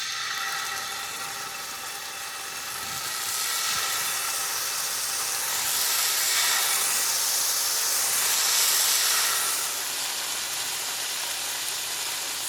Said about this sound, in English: we're about to cook our salmon bites